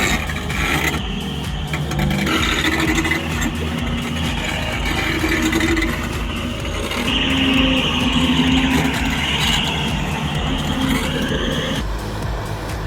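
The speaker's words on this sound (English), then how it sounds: "Roaring like a beast in the dead of winter, the TT4's 90 horsepower engine conquers massive log bundles with ease" A TT4 skidder with a 90 horsepower engine hauls massive log bundles in deep winter, its engine roaring steadily and loud throughout with mechanical clanks and rattles layered on top.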